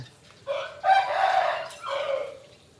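A rooster crows loudly and close by at four in the morning, one long drawn-out call with a rising start and a falling finish, heard on its own.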